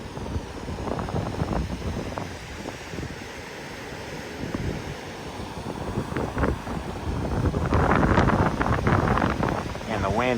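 Gusty wind blowing at Twin Lakes in Mammoth Lakes beside flowing water in springtime, a broad rushing roar buffeting the microphone and strengthening toward the end, with a voice speaking faintly at moments.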